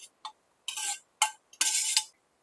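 Browned stew meat and its juices tipped back into a cooking pot for beef stew, giving several short, close metallic clinks and scraping bursts with quiet gaps between them.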